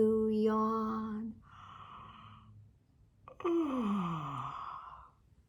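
A drawn-out yawn with a sighing, falling voice, then a second long yawn that slides downward, both close and fairly loud, separated by a short quiet gap, sung along in a children's bedtime action song.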